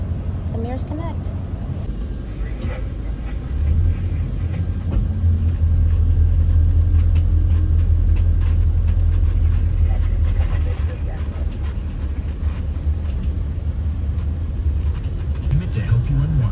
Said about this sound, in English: And just like that, we're on the bus, the Mears Connect.